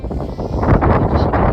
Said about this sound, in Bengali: এই হচ্ছে রাস্তা, প্রচন্ড ঠান্ডা হাওয়া দিচ্ছে।